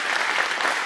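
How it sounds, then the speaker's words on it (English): A short, dense burst of audience applause after a stage show, many hands clapping steadily and loudly with no voices over it. "One more round of applause for them"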